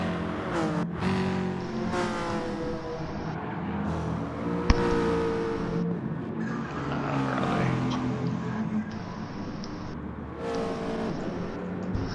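Race cars including a Subaru WRX and a Honda roaring in a racing video game, dense overlapping engine revs and shifting pitches with a sharp impact midway.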